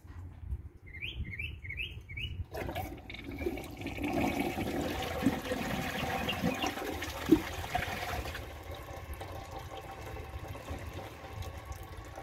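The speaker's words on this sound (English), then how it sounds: "I think if I flush it again, it'll probably take it." A 2011 Kohler Rialto Ingenium toilet flushes with a broad, close rush of water that holds steady for several seconds, then gives way to the quieter hiss of the tank refilling; a few short chirps sound just before the flush.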